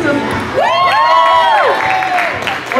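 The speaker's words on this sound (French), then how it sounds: "On l'applaudit bien fort" An audience at a cosplay contest cheers and applauds, with one loud rising whoop standing out over the crowd noise for a couple of seconds.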